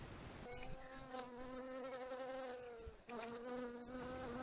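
Bees buzz close by in a steady, droning hum that wavers slightly in pitch, with no voices.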